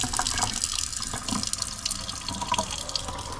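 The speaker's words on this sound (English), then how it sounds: "All right, Jen, let's run the last little bit out of the sink here." A cabin sink tap runs, water splashing steadily and close into the basin with uneven gurgling spatter, alone without talk.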